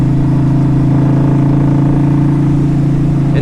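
A 2005 Honda Shadow VLX 600 four-speed cruiser motorcycle holding 55 mph, a loud, steady low engine drone with a constant rumble and wind, recorded from the rider's seat, with no voices.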